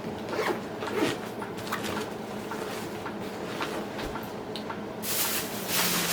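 A zipper on a backpacking bag, close and fairly quiet, pulled in a series of short raspy strokes with a louder, longer zip near the end.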